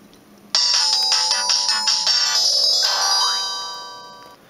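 A Samsung C100 mobile phone plays its power-off melody, a loud, bright electronic tune of several quick notes that rings out and slowly fades with no talk over it.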